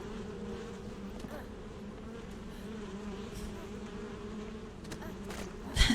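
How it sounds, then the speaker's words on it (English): Corpse bees in the video game Kingdoms of Amalur hum in a constant, even buzz that holds for several seconds, ending with a short louder thump. "Corpse bees."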